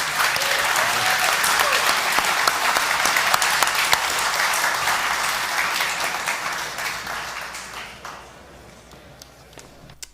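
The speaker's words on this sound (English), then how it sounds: "One more round of applause for Helium Mobile" A crowd at a Helium House 2022 event in New York applauds loudly and steadily for several seconds, then gradually fades, with a faint voice as it trails off.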